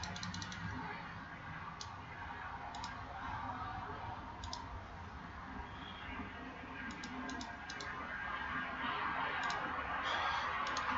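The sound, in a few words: computer mouse clicking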